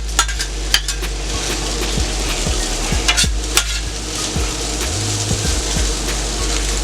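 Potatoes sizzling and frying in a pan, a steady bright hiss throughout with scattered clicks and scrapes of a utensil stirring, close and fairly loud with no talk.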